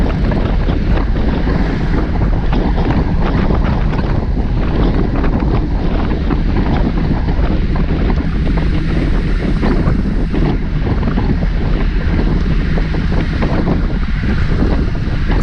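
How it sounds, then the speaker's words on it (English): Heavy, steady wind roar buffeting the microphone while cycling fast uphill on a road group ride, loud and continuous throughout with no talking. "You can hear the wind and you see the road going up."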